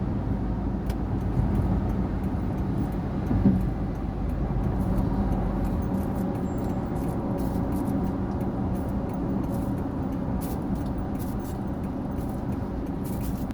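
An Isuzu 1.9 pickup with a newly replaced rear differential drives steadily, its engine a continuous low drone with changing revs as it shifts through the gears into a bend, with no pauses.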